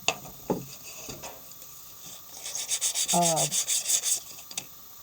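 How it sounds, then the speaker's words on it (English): Steady back-and-forth rasping of sandpaper rubbed over wood by hand, a rhythmic series of strokes, close up, preceded by a few light knocks. "So I need to sand this."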